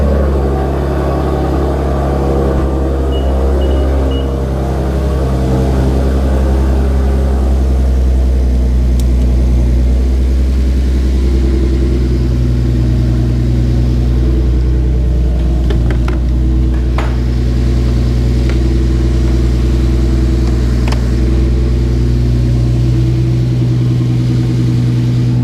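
A car engine, left sitting for a couple of days, idles steadily after a fresh startup, a loud continuous low rumble close by with small rises in pitch and no talking over it.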